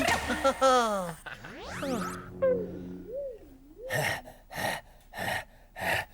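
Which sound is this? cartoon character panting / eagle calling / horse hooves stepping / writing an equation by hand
cartoon character panting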